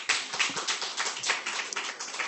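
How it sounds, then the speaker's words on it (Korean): Congregation applauding during a Sunday evening worship service at a Korean church: dense, steady clapping from many hands that fills the room without pause, with no voices over it. "박수."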